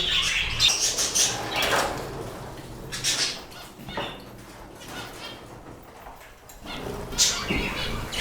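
Pet budgerigars flutter and flap their wings in bursts as their cage doors open, with close wing rustles and faint cage rattles between the busier bursts.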